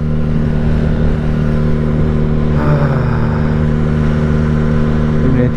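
A motorcycle travels a mountain road along the Cuesta del Obispo, its engine holding a loud, steady drone with constant tonal hum and rushing wind throughout, no speech.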